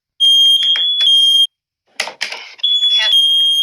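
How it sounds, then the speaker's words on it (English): Loud, shrill steady tone from a Nest smoke alarm sounding in two long bursts, broken by a short stretch of synthetic spoken voice from the alarm between them. "There's smoke in the master bedroom."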